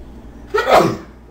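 A single loud, close sneeze with a sharp breathy burst, standing alone against quiet.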